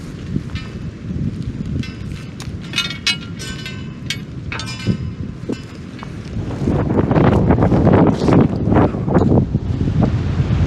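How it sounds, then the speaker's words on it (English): Fierce wind roars through woods along the Tuscarora Trail, buffeting the microphone in continuous gusts that swell louder toward the end, with no talking. "There's some fierce wind."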